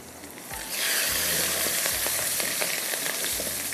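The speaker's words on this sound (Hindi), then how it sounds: "लहसुन अदरक ये भी हम डालेंगे इसमें, थोड़ा सा इसको फ्राई करती हूँ।" Garlic and ginger fry in hot oil in a pan while cooking dal at home, a steady loud sizzle that swells after a brief quieter start and carries on with faint stirring clicks.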